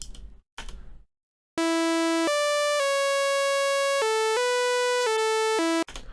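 A bright, buzzy synthesizer tone from a default init patch in FL Studio 21 plays a short sequence of sustained notes stepping up and down in pitch, loud and plain with no effects.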